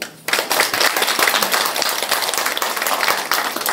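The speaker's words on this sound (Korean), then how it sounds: "박수 한번 좀" An audience at an election campaign office opening breaks into loud, dense applause that starts abruptly and keeps going at full strength.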